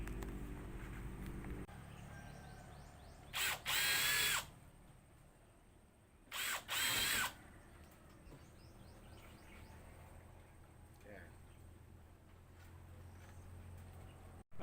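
A power drill pre-drills timber for screws during gate building at a house construction site in the Philippines, with two short bursts of whirring close by, separated by a pause, over quiet background.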